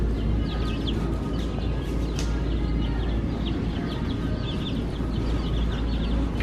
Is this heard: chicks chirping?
yes